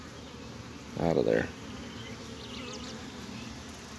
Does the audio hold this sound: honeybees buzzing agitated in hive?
yes